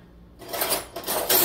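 Metal measuring spoons clink and rasp as they are pulled out and handled in a home kitchen during scone baking, a few close, bright scraping and jingling bursts after a brief silence.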